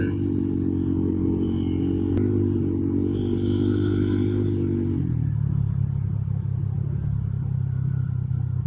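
Several motorcycles race past at close range, their engines droning loudly and steadily before the pitch drops as they pass, with continuous rumble and no talk.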